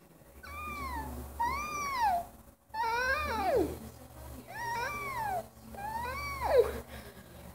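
A voice imitates a cat meowing, giving about five drawn-out, rising and falling meows one after another at close range, with a faint low hum underneath.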